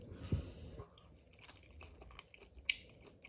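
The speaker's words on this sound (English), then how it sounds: "Let's get some of that pasta and get some of that shrimp." Close, quiet chewing of a mouthful of shrimp and pasta, with soft wet squishes and an occasional sharper bite, irregular and without talk.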